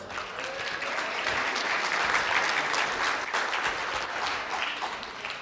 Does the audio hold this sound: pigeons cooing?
no